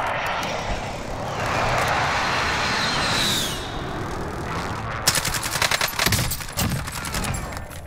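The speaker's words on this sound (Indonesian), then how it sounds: "Friendly precision airstrike inbound." A precision airstrike in Call of Duty Warzone: jet engines roar overhead and sweep past, then a rapid burst of heavy gunfire and blasts crackles close and loud.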